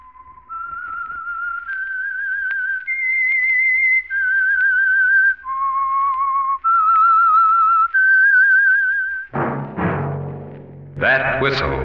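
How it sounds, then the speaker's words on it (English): A lone whistler plays the slow, eerie theme signal of the radio drama The Whistler, a close, clear melody of about eight sustained notes, followed by a brief burst of orchestral music. "That whistle is your signal for the Whistler."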